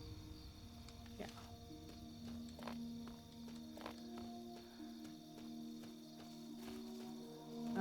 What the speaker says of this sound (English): I keep hearing footsteps.